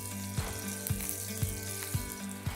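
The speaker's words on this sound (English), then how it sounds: "That sizzle is exactly what we're looking for." Chicken searing in garlic oil in a cast iron pan gives a steady close sizzle, broken every half second or so by a soft rhythmic knock.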